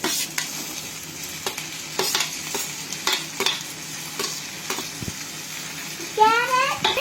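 Ginger and garlic fry in a pan for egg Maggi noodles, a constant close sizzle broken by repeated scraping stirs of a spoon, with a short voice-like sound near the end.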